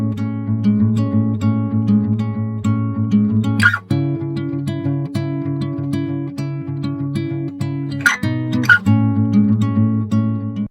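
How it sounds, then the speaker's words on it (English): Raw finger-picked acoustic guitar with no effects, close and clean, playing steady sustained notes and chords, with a couple of brief string-squeak or percussive transients along the way. "I'll show you just the raw acoustic guitar performance,"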